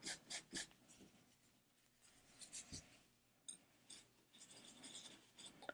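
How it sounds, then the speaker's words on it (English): A silicone watchband is lightly rubbed with fabric dampened with alcohol, giving faint, quiet scratchy strokes in short irregular bursts. "Now I'm just going to lightly rub."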